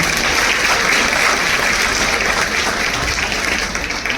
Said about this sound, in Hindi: तालियों की गूंज बजती रहनी चाहिए